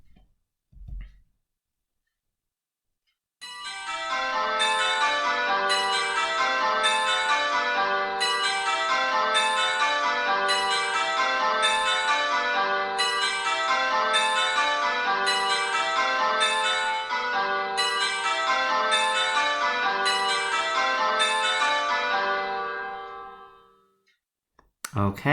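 A long run of repeated bell strikes played as a listening-quiz item, a steady cascade of ringing, overlapping tones lasting about twenty seconds, loud and close, with brief sounds before and after.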